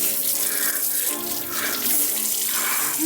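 Cold water runs steadily from a tap into a sink, a loud continuous splashing rush with slight fluctuations throughout, and no talking.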